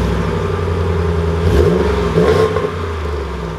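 A 2020 Ram 1500 Limited pickup truck engine starts with a push button, rising into a brief rev before settling into a steady idle hum, close and continuous.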